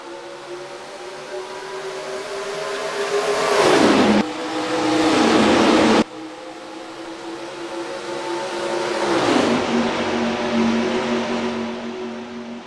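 Stock cars racing at Atlanta in the NASCAR Racing 2003 video game: loud, continuous engine roar that swells twice as the pack passes, with pitch dropping after each pass and no talk over it.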